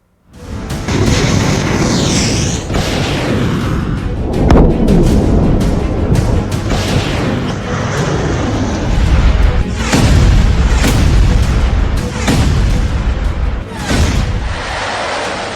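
A dense barrage of heavy booms and rumbling blasts from missiles and cluster bombs falling on Tel Aviv rolls on continuously, with deep echoing detonations and sharp cracks layered over one another.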